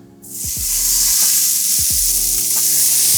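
A Barnsley chop hits a hot frying pan and sizzles loudly and steadily, with a couple of low clunks and scrapes as the meat or pan is moved.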